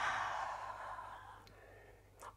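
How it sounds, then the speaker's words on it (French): A long, soft breath exhaled during a floor exercise, like a sigh that fades out gradually and ends with a short sharp intake or shuffle. The breathing is close and alone. "Juste la respiration."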